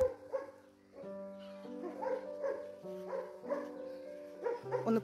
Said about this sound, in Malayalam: മയിലിനെ കണ്ടിട്ടാണ് പട്ടി കൊരുക്കുന്നത്.